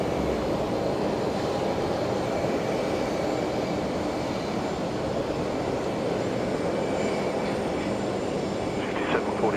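A Jetstar airliner bound for Darwin rumbles at Brisbane Airport, a steady broad engine roar holding level throughout, heard from a distance with no talk.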